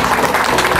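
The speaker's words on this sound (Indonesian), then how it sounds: "Tepuk tangan dulu." Loud, dense burst of applause from an outdoor crowd gathered at a riverside fishing competition, brief and close, with no break in the clapping.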